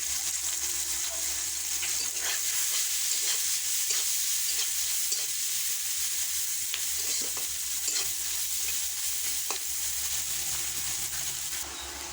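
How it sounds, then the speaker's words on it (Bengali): Onions fry in a pan with dried chillies, five-spice and whole garam masala, a loud continuous sizzle close up with occasional stirring scrapes and no talking. "পেঁয়াজ দিয়ে লাল লাল করে একটু ভেজে নিতে হবে পেঁয়াজটা"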